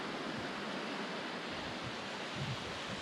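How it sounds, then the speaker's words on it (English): A stream of rushing water, a steady broadband roar with no talk, even and continuous at moderate level. "Rushing water. One of the best sounds in nature"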